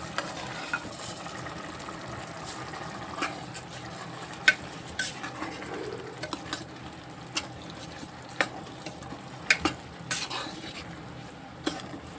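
Whole masoor lentils and rice being stirred in a pot, with faint, scattered scrapes and clicks of the spoon against the metal over a quiet background.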